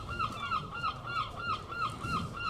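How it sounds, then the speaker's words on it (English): Gulls calling over a cricket ground during a county championship match, a repeated run of harsh honking cries, fairly close and steady, with open-air ambience beneath. "The gulls have heard that DT is returning."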